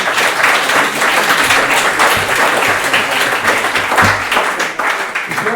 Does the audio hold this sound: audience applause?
yes